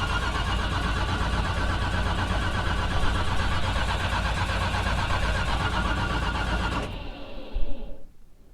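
Car engine cranking on a cold start during tuning, a loud, steady, rapid churning that runs for several seconds and then cuts off, followed by a brief sputter that fades out.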